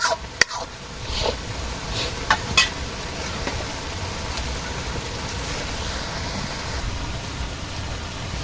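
Water spinach greens frying in a pan, giving a steady, close sizzle with a few sharp stirring clatters near the start.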